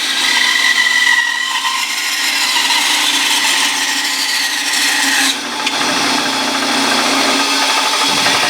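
A power tool trims away the side of a wooden guitar neck with a loud, continuous whining, grinding cut; the tone shifts and thins slightly partway through, and no one speaks.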